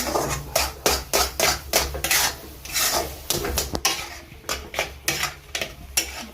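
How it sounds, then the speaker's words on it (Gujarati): A spoon scrapes and stirs gram flour sheera in a pan over low heat, giving repeated rasping strokes in a steady rhythm, close and fairly loud, with no talking. "આપણે હલાવી દઈશું"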